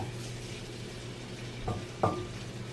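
Adobo tofu with eggplant is stirred in a pan over a steady low sizzle, with two short utensil scrapes against the pan near the end.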